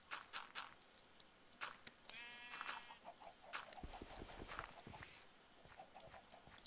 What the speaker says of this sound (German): Oh, ein Schaf haben wir noch.